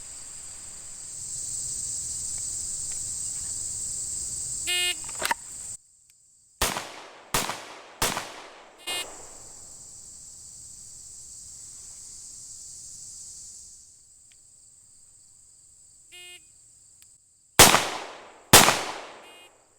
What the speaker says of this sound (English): the shooter has to fire 2 shots into the body in a time limit of 3 seconds